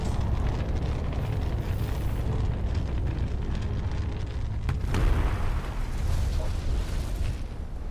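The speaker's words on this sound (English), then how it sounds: "Huge explosion." Big cannons fire in the video game Silica, producing a dense, continuous rumble of explosions with a sharp blast near the middle, loud and sustained throughout.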